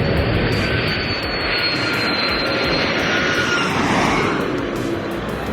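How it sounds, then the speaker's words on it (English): An airplane lands in Phuket, Thailand, its engines a loud continuous roar close by, steady throughout with no voices. "When we finally got to capture the plane landing"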